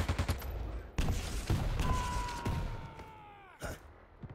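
Shotgun fire in the arena shooter Quake Champions: a rapid series of sharp, punchy blasts spread across a few seconds, mixed with game effects and a falling tonal whine.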